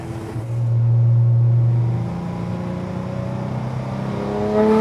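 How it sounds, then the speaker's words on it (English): A sports car engine with Weber carburetors revs hard, its intake roaring and rising in pitch, then falls back to a lower rumble before climbing again. "you hear this giant sucking sound right behind your head"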